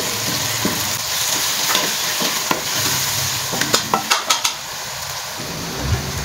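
Tomatoes mashed and stirred in a frying pan, with a steady background sizzle and a run of sharp spatula knocks and scrapes clustered near the middle.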